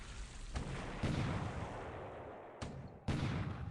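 Destroyer gunfire in a WWII Pacific naval strategy game, several loud booming shots, one near the start, a heavy blast after a second, and two more sharp reports toward the end, each followed by a rolling roar.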